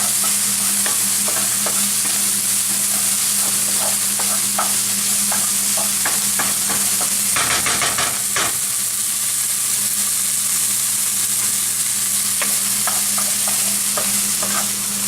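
Garlic frying in a pan, a dense, even sizzle close up with light taps of stirring and a brief louder burst of spitting midway, no talk.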